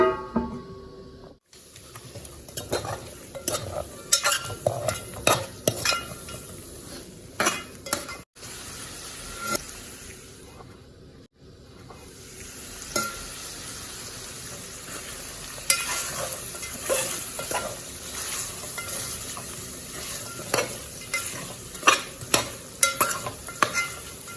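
Pork curry with fresh coriander being stirred in a pan, a continuous sizzle overlaid by frequent scraping and clinking of a spoon against metal, with brief pauses and no speech.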